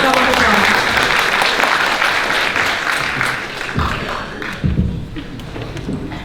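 Audience applause at a university seminar welcome speech, a steady wash of clapping that fills the room and slowly thins toward the end.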